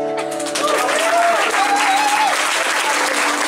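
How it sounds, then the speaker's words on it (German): Audience applause fills a concert hall at the Musiktheater Rex in Bensheim, a dense steady clapping that swells after a moment, with a sung or spoken voice sliding faintly over it. "Applaus."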